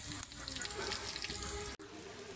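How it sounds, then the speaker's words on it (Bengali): Onions frying in oil in a kadai, a steady close sizzle that fills the clip, with one brief break near the end. "কড়াইতে তেল আর পেঁয়াজ দিয়ে দিছি। এখন পেঁয়াজটা একটু একটু বাদামি কালার হইতেছে।"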